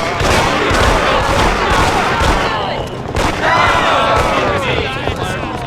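Fireworks at a party in the video game Mafia: The City of Lost Heaven crackle and pop in rapid, overlapping bursts with whistling rockets, loud and continuous, with game voices mixed underneath.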